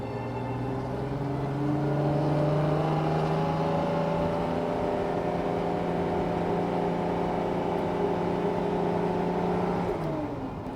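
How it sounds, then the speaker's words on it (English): A 1968 inline-six car engine drones steadily at close range, its exhaust holding a resonant, rising tone before easing off near the end as the car slows for construction. "She has a nice exhaust note."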